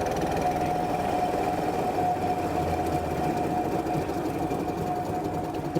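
An old boat engine idles steadily near by, a continuous low chugging rumble with a faint steady whine, unbroken for several seconds.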